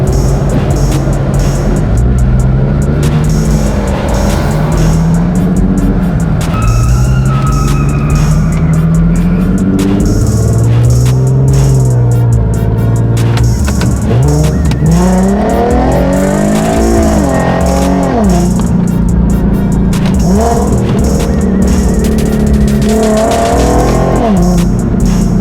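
A Lamborghini Huracan with a loud exhaust revs and accelerates at a car meet, its engine roaring up and down in repeated sweeps, close and very loud, with a dense, constant wash of engine noise throughout.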